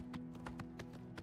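A horse in the Oblivion video game clip-clops with its hooves, a faint, steady run of about seven evenly spaced hoof strikes.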